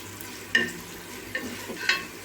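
Onion pieces frying in a pan for mushroom biryani, a quiet sizzle under three short clinks and scrapes of a spoon stirring, close by with no talk.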